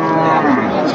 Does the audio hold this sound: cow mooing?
yes